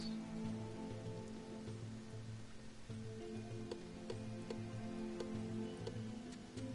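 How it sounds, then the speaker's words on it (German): Steady rain falls on the surface in the survival game Sheltered, a constant wash of patter with looping game music and faint chimes layered over it. "Hier ist Regen an der Oberfläche."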